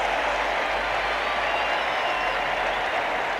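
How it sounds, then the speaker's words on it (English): Steady, loud roar of a big ballpark crowd at a Red Sox home game against the Twins, a dense wash of cheering and applause holding constant throughout with no break. "the Red Sox take the field to the roar of this great crowd"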